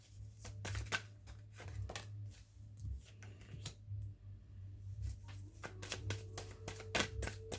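Tarot cards are shuffled and handled close by, producing quick riffling flicks and soft card snaps in irregular bursts over a low steady hum.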